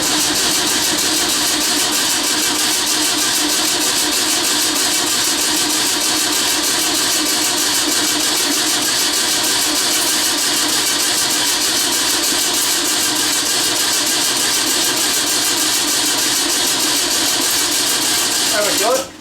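A 1954 VW Beetle engine held running while someone adjusts the carburetor, a dense, steady rattling mechanical drone from start to finish that cuts off abruptly at the very end, close and loud.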